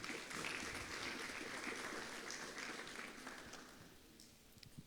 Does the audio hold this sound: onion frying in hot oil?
no